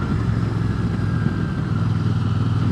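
A 2023 Royal Enfield Super Meteor 650 motorcycle cruising along, its engine giving a steady, even, mid-pitched drone that stays close and constant throughout.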